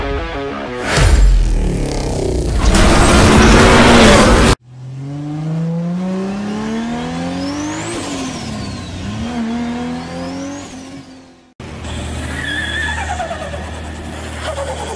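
A 2003 Mazda RX8 Type S sports car revs loudly, its engine swelling and falling in drawn-out pitch sweeps as it drives past and pulls up, the sound changing abruptly between passes.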